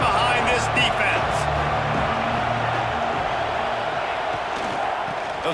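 A stadium crowd in a Duke at NC State college football video game roars steadily on a big third down, a dense continuous cheer with scattered shouts and a commentator talking over it.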